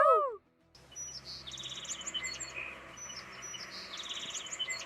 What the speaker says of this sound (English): That is a sparrow, Priya.